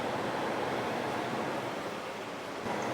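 Fried bake dough dropped into hot oil, a steady, even sizzling hiss of frying, fairly quiet and continuous throughout with no talk.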